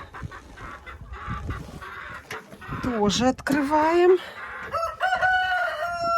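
Old hens in a second coop enclosure cluck around a rooster's loud, drawn-out crow, with further calls following close by; a person speaks briefly over the birds.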